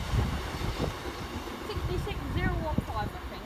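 A Freightliner Class 66 freight train passes at Loughborough station, a steady loud rumble of locomotive and wagons running throughout, with people talking over it.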